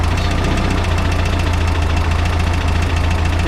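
A Volkswagen Type 4 engine with dual carbs idles steadily and loud up close, a rapid, even knocking pulse with a faint hint of missing as the idle mixture screw is turned in.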